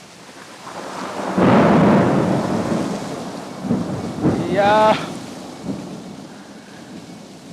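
Thunder rumbles loudly during a heavy rainstorm, a deep swelling roll that peaks early and fades over several seconds above steady rain, with a brief spoken exclamation near the middle.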